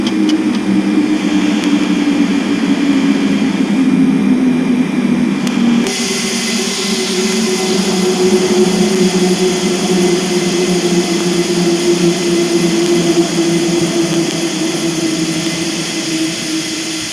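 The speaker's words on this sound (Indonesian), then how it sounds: "Engine 2 off, engine 1 off, flaps 0." The jet engines of a parked Ryanair Boeing 737-800 wind down after landing. A loud, steady turbine roar and whine shifts partway through, then slowly sinks, with no talking.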